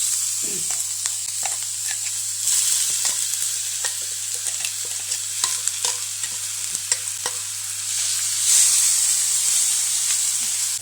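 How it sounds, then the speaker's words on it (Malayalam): Mustard seeds with crushed garlic, shallots and dried red chillies sizzle steadily in hot oil for a Chinese potato stir-fry, a close, continuous hiss dotted with sharp crackles and pops and no talking. "കടുക് പൊട്ടി വരും നമ്മൾ ചതച്ച് വെച്ചിരിക്കുന്ന വെളുത്തുള്ളി കൊച്ചുള്ളി വറ്റൽമുളക് എല്ലാം കൂടെ ഇട്ട് കൊടുക്കാം"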